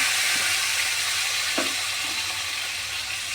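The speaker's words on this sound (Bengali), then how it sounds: "আলুগুলি ছেড়ে দেবো" Potatoes sizzling in hot oil for bandha kofi torkari, a steady close frying hiss throughout with a couple of faint stirring clicks, no voices.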